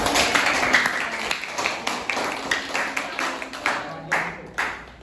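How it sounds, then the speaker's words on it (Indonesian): Students in a classroom clap for several seconds, a close, fairly loud burst of uneven hand claps that thins out toward the end. "Oke, tepuk tangan dulu buat kalian."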